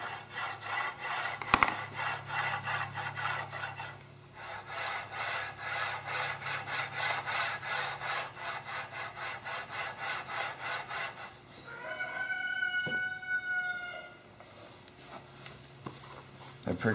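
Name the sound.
noisy ball-bearing drawer slide being moved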